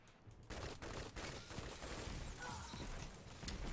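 Rapid pulse rifle fire from Claws of the Wolf in Destiny 2, steady bursts of gunshots running almost without a break, loud and close, with no talk over them.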